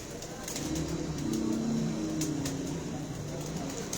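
A pigeon coos close by in a few soft, low, rolling phrases over a faint background hum.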